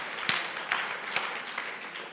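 Scattered clapping from a crowd, fairly soft and distant, with a few sharper claps standing out.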